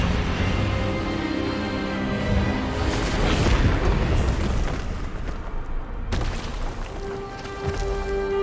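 A magical spell clash in Hogwarts Legacy rumbles with a sustained, loud booming roar that swells and fades over several seconds, then drops sharply before a continued ringing tail.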